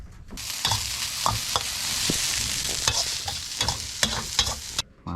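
Rice is stir-fried in an iron wok, with a steady sizzle and repeated scraping and clanking of a metal spatula against the pan.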